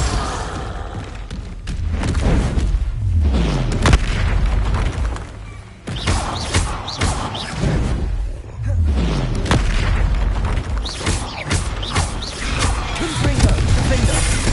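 Fiery blasts of the Confringo spell in Hogwarts Legacy, several loud booming bursts spread across a busy combat soundscape, with one heavy thud near the middle and a voice talking over parts of it.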